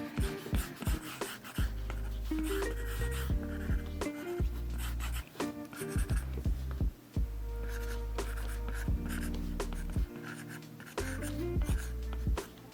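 A pencil sketches a character figure on paper in close, quiet strokes, with bursts of scratchy scribbling broken by short pauses and quick taps as lines are laid down.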